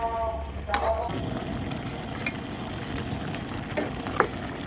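Duck with young ginger, vegetables and leafy greens stir-fried in a wok: a steady close sizzle with scraping stirs and occasional sharp clicks of the utensil on the pan.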